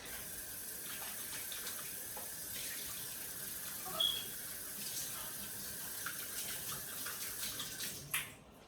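A small hamster bowl is rinsed under a running kitchen tap, a faint continuous water flow with a few brief clinks and splashes near the end, no talk.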